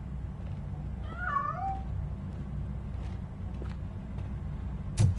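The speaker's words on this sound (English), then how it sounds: "That cat must be hiding inside." A video game cat meows once, a drawn-out rising and falling call, followed by faint ambient noise and a short thump near the end.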